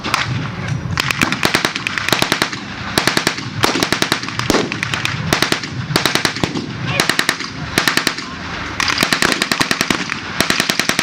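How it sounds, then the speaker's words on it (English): MG42 machine guns and machine pistols firing at a WWII battle re-enactment on an open field: loud, rapid ripping bursts repeat every second or so, sharp and close, with faint voices between bursts. "On the German side, we're using mainly Mg42s, machine pistols"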